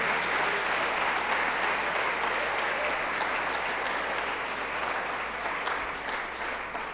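A church congregation applauds during a Portuguese-language sermon, a full, sustained round of clapping from many people that holds steady and tapers slightly toward the end, with a low hum underneath.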